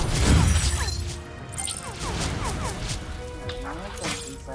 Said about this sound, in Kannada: ಇದು ಶಾಪ್ ಗಾಡಿ ಬ್ಲಾಸ್ಟ್ ಆಗುತ್ತಲ್ಲ.